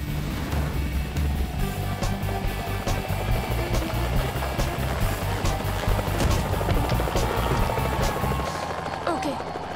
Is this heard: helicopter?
yes